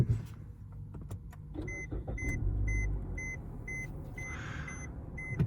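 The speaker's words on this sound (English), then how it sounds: "let me start up the car" A Suzuki Kizashi with push-button start powers up from inside the cabin: a low rumble builds and settles into a steady idle, with a few clicks and repeated soft electronic chimes from the dashboard.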